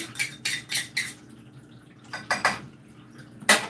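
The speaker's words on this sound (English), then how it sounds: "Stir it up." Several short bursts of a utensil scraping and clinking against a pot while non-dairy mac and cheese is stirred, coming in quick clusters with quiet gaps between them, close and moderately loud.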